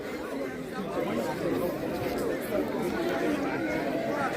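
At a Bukusu circumcision ceremony, a gathering crowd chatters in a dense murmur of many overlapping voices, steady and moderately loud throughout.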